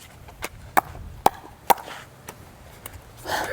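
Hollow, woody thunks from a CRBN Barrage pickleball paddle mishitting the ball outdoors, several sharp separate impacts at an irregular rhythm, fairly close and alone.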